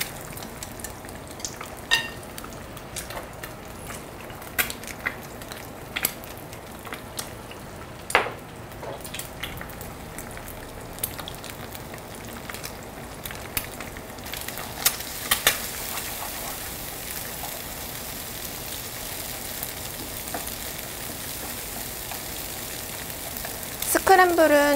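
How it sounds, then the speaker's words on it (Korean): Scrambled eggs with a pinch of salt and pepper sizzling in a pan while cooking for pad Thai, a steady soft frying hiss punctuated by scattered spatula scrapes and taps, moderately quiet and close. "스크램블은 좀 이따가 면 볶고 나서 한 번 더 볶을 거라서 너무 많이 안 익히셔도 돼요"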